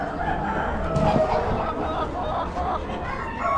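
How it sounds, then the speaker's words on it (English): Chickens at an Amish animal auction cluck and call close by, with a crowing note and a murmur of crowd voices underneath. "Bunch of red hens"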